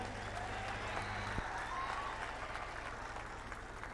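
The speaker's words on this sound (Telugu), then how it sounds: "మీరందరూ పెద్ద ఎత్తున చప్పట్లతో నివాళులు అర్పించాలి" A large crowd at an outdoor political rally in Warangal claps in sustained tribute, producing a dense, even wash of applause that lasts throughout. A voice sounds faintly in the background.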